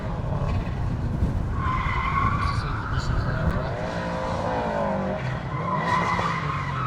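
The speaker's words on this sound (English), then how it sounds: "on the skid pan, there's currently a white WRX going around." White Subaru WRX skidding around a skid pan at a race track, tires squealing in long wavering tones over a steady engine roar, with people talking nearby.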